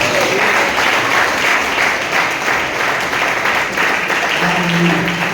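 A church congregation at a Sunday worship service breaks into loud, sustained applause, a dense wash of clapping filling the room throughout.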